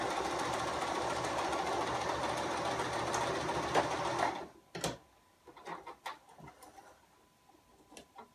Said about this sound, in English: stitches here, and then we'll do a little back stitch